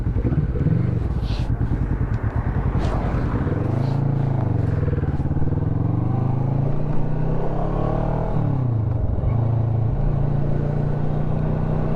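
A motorcycle rides on a road in Kent, its engine close and steady with rising and falling pitch as it accelerates and shifts, and brief gusts of wind noise over the top.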